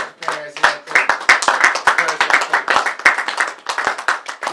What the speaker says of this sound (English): give them a round of applause. Parents and coaches.